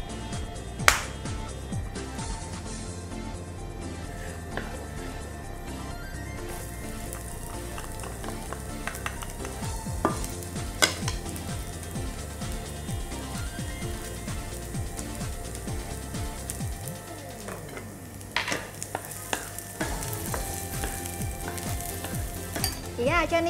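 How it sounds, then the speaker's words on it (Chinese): Diced meat stir-frying in a little oil in a wok, a steady close sizzle with frequent sharp clinks and scrapes of a utensil against the pan, the frying tone dipping briefly near the end before resuming. "少少油落去咧，爆香咗啲肉粒先"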